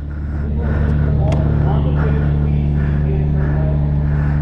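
A McLaren 765LT supercar pulling away, its engine a loud, steady, deep drone that swells early and holds close, with people talking over it.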